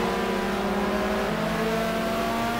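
Racing cars, a BMW M3 and a McLaren, in a sim racing game at Aldo Scribante, a continuous loud engine drone with a steady high whine that shifts pitch partway through.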